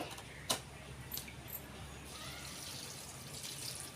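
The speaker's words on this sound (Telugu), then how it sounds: "నీళ్ళు పోసి" Faint, steady hiss of water being poured, with a sharp click near the start and no voices.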